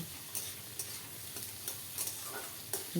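Onion and tomato stir-fry in a pan with a soft, steady sizzle, broken by several quick scrapes and stirring clicks of a spoon against the pan; quiet and close, with no talking.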